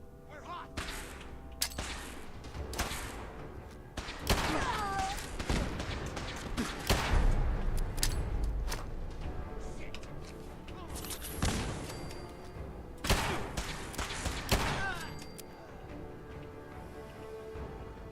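Gunfire from Kellogg's .44 pistol in Fallout 4, a series of sharp, loud, widely spaced shots with thuds and crashes between them, spread across a tense firefight with occasional brief voices.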